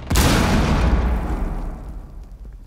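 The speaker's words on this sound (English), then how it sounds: "Throwing frag grenade." A frag grenade detonates in Rainbow Six Siege, one loud close boom with a sharp onset that rolls into a long rumbling tail and fades over a couple of seconds, with no voices.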